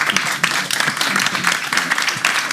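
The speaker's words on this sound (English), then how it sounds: "Can we have a round of applause for the Imam?" Audience applause at a faith-based talk on gender stereotypes, a steady wash of many hands clapping close and fairly loud, with scattered sharper claps and a few faint voices mixed in.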